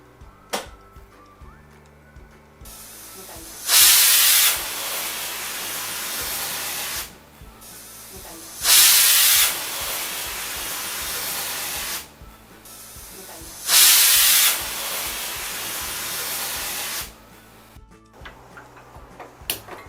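A pressure cooker on a stove vents steam in three loud, roughly five-second hissing bursts at regular intervals, with quieter gaps and faint ticking in between.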